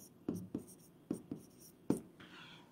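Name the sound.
writing on a board during a lecture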